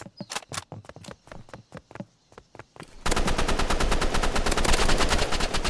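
Rapid automatic gunfire in a Roblox game, scattered shots at first, then a dense, loud continuous burst for the second half.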